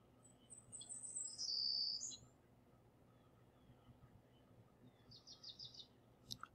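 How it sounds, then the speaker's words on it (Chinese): Birds chirp in a sound-effects track, high trilling calls clustered early and a softer burst of tweets later, over a faint, steady background hum. "就是这个是鸟叫声嘛，这个也是鸟叫声"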